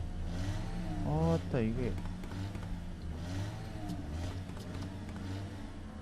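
A car moves with its engine revving in the video game Aurora: A Child's Journey, a low steady motor drone running throughout while someone talks briefly over it.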